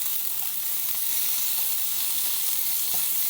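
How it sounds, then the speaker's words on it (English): Zucchini noodles sizzle steadily in a frying pan, a soft, even crackle that is quieter now as the water cooks off, with faint stirring scrapes and no talk. "I've got a little less noise on the sizzling now"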